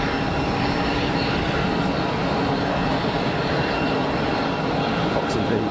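A Swiss airliner on flight 330 to JFK at Geneva Airport, its jet engines producing a loud, steady, broadband roar that holds throughout, close and unbroken, with a faint voice underneath.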